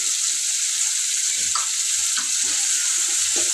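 Ginger paste sizzling and frying in a pan while a spoon stirs it, a steady hiss with a few soft scrapes, close and continuous.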